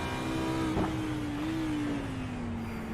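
A race car engine drones steadily at Sebring International Raceway in the sim racing game iRacing, a held mid-pitch tone that dips and shifts gently over a few seconds.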